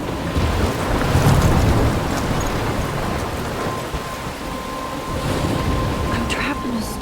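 Stormy coast in Life is Strange with crashing waves, driving wind and rain, and a low rumble of thunder swelling and fading under a continuous wash of noise, fairly loud and close.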